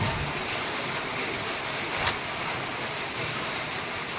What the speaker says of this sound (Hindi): लेकिन आवाज़ तो आ ही रही होगी आपको बारिश की।